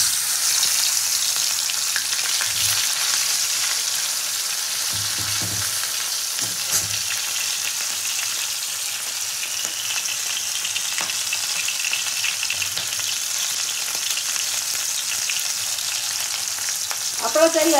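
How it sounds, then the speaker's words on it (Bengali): Hilsa fish tails frying in hot oil, a loud continuous hissing sizzle that holds steady throughout, with a few low thumps of the pan or spatula now and then. "নিয়ে এবার মাছের লেজাগুলো ভেজে নেব।"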